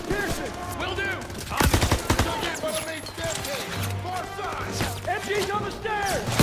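Call of Duty WW2 campaign combat while clearing a lobby, with bursts of gunfire and machine-gun fire ringing out over music and shouted voices, loud and busy throughout.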